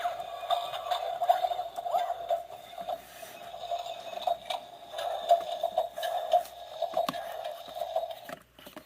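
An ED-209 style robot toy walks with a steady mechanical whirring drone and rapid ticking clatter, close up and continuous, with no voices.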